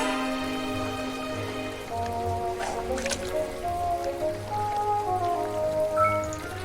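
Steady rain falls over a game world in My Time at Portia, a soft continuous patter with light drips under gentle background music tones.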